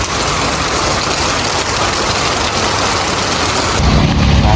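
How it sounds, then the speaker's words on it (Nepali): Heavy rain pours down in a steady, dense roar, and a deep rumble of thunder swells in near the end. No one speaks. "यार कस्तो पानी परेको।"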